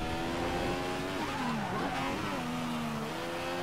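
A race car engine in a racing video game on a wet track, a steady loud drone whose pitch dips and rises as the car lifts off and accelerates again.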